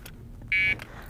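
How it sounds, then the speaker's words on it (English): A 125cc scooter's alarm gives one short, clear electronic beep as it arms, close by and brief, surrounded by quiet handling noises. "As soon as you hear that beep, that means the slightest touch will set it off."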